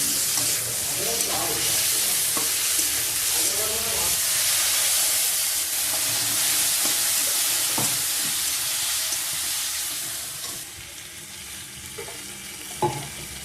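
Onions sizzle loudly in hot oil with ginger and garlic, a dense steady hiss broken by scraping stirs and clinks, easing slightly toward the end.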